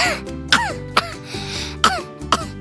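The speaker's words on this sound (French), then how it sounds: "Voici une toux sèche" Four sharp, dry coughs spaced about half a second apart, close and loud, with brief breathy gaps between them.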